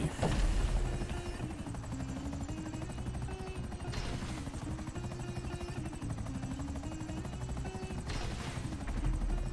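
A helicopter drones steadily through a shooter video game, its rotor noise continuous over a busy mix with bursts of gunfire and brief broadband swells.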